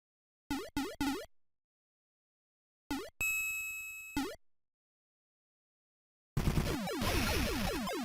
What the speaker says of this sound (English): I keep hitting the bell at the top of the stage.